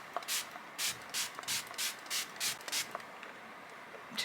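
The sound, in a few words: spraying makeup setting spray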